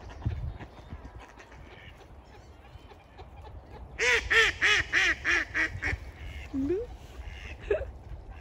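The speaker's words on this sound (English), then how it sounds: "The ducks are walking on the lake." Ducks walking on a frozen park lake in snowy weather let out a burst of loud, rhythmic honking quacks lasting about two seconds, followed by a couple of faint calls, amid quiet outdoor background and people talking nearby.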